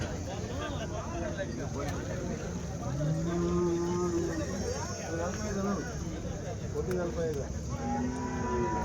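Cows low at a busy weekly Sunday cattle market, with several drawn-out moos rising over a dense crowd murmur and the noise of nearby people talking.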